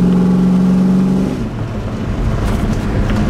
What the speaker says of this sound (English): This thing just has that awesome muscle car sound.